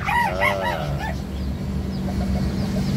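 A brooding hen clucks and honks in a short, agitated burst near the start when disturbed. The calls then fade into quieter background murmuring.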